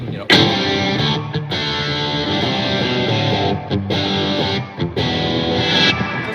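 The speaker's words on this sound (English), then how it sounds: "It's got much more of a distorted kind of Marshall or high watt." An electric guitar through a distortion pedal plays thick, sustained, Marshall-style chords with a few brief breaks, loud and saturated.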